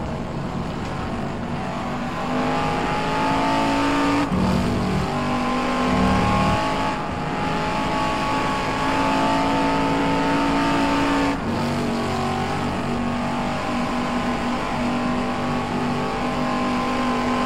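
A Shelby Cobra race car engine roars steadily through a timed lap in a 1960s GT championship racing game, holding a loud, near drone with brief dips and gear changes around a few moments, no talking over it.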